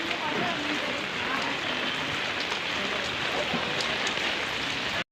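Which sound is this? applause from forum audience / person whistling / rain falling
rain falling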